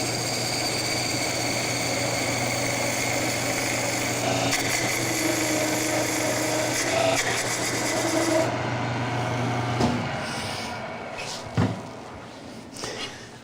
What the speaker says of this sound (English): I'm just going to turn a dovetail shaped tenon that I can put in the jaws of my chuck